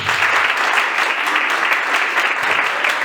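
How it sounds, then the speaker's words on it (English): Audience at a business seminar applauding a guest, a dense, loud, sustained wash of many hands clapping together close by, with no speech over it. "Can we give Mr. Mashel a round of applause, people?"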